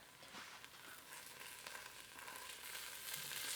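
Scallops searing in a Ninja Foodi give off a steady, faint hissing sizzle that builds slightly toward the end.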